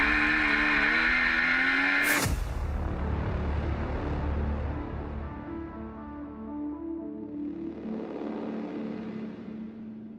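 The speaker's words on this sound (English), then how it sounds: "Early stages of the second Legends Cars race." Legends race cars in a sim racing game at the Nurburgring GP circuit; a high engine whine cuts off, followed by a dense roar of several cars revving and shifting together, fading slightly before engines build again, continuous and loud.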